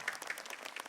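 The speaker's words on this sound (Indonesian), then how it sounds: "Tepuk tangan dong." Brief burst of audience applause at an Islamic sermon gathering, a short patter of hand claps from the congregation, fairly faint and alone.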